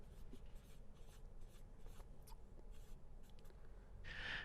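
A pen scratches quietly across paper in short strokes while someone writes down a number, faint and close, with one brighter scrape near the end.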